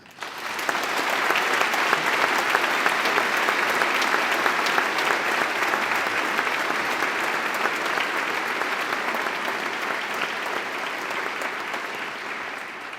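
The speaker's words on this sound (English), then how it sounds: "family and friends, please help me applaud your future physicians." Family and friends applaud future physicians at a medical school white coat ceremony, a sustained, full-room clapping that rises quickly and holds steady for many seconds before slowly easing.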